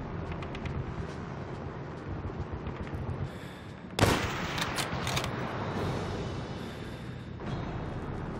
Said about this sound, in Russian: Патрульные наверняка слышали выстрелы.